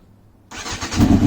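Silence gives way to an engine catching on half choke, firing with no throttle and settling into a rough, growing idle, up close and alone.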